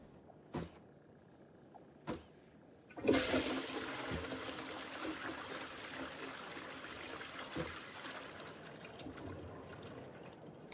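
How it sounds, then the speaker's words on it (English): A toilet flushing in a video game: two brief clicks, then a sudden loud rush of water that keeps churning and trickling steadily for several seconds with no talking. "Can you imagine flushing concrete down a toilet?"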